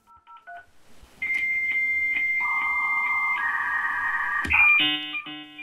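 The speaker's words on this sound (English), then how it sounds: "To connect using dial-up, your computer makes a call on your phone line to connect you to your internet service provider." A dial-up modem dials out over a phone line: a quick run of DTMF tones, then a steady dial tone with pulses, rising into the harsh screeching handshake tones, loud and alone.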